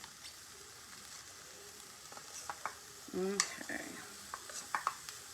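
Chopped onions fry softly in a skillet for homemade pasta sauce, a faint sizzle with a few sharp utensil clicks and scrapes, and one brief spoken word.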